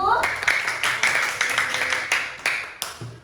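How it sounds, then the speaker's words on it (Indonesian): Students in a classroom clap for a presenting group, a sparse, uneven patter of hands that swells slightly and trails off, close by, with voices talking over it. "Coba tepuk tangan untuk kelompok 1"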